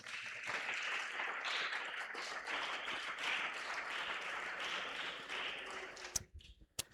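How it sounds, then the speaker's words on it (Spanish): A church congregation claps loudly and steadily in a sustained burst of applause during a Spanish-language worship service, the clapping dense and continuous before it cuts off abruptly near the end. "Dale un fuerte aplauso al Señor."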